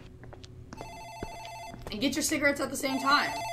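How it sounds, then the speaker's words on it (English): An office telephone rings in the game Dark Fracture, its repeating electronic trill sustained through most of the moment while someone talks over it and other game sounds swell near the end. "I think that's the phone in the office ringing."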